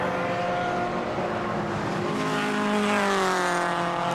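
Touring race cars at the 2014 Gerry Marshall Trophy race roar past close together, loud engine notes overlapping and shifting pitch as they pass.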